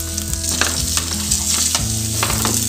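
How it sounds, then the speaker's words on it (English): Vegetables browning in oil in a pan to form a base for roasting poultry, a loud continuous close sizzle with repeated stirring scrapes and soft clatters, no voices. "What I'm doing is I'm browning these"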